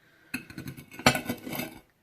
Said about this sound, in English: we're going to rim the glass a little bit just to make it pretty